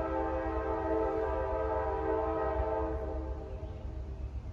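CSX M427 freight train rounding a curve toward Saco, Maine, on a Sunday afternoon, its loud multi-tone horn sounding steadily for several seconds over the low rumble of the train, then fading at the end.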